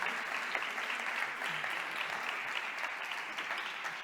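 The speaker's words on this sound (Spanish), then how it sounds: "para ella pido un fortísimo aplauso" A conference audience gives a speaker a warm round of applause, steady and even clapping from a large room held at moderate volume throughout, with no one speaking over it.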